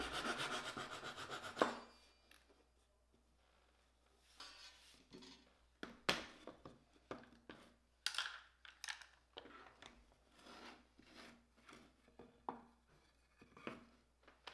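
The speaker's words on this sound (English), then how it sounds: "After the rough circle has been cut out with the saw" A hand saw cuts a rough circle out of wood for a cutting board, a loud rasping stroke at first and then scattered softer scraping and rubbing strokes at an uneven pace, close by with no talk.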